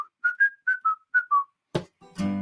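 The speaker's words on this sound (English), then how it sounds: "Some of the adults can do that whistling part" A live singalong performance of a children's song, where a run of seven short, bright whistled notes rises and falls in a tuneful phrase before a couple of louder noisy bursts end it.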